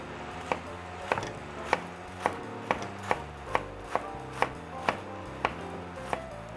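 A knife finely chops lettuce on a cutting board, about a dozen evenly spaced crisp strikes, close and clear with no talking.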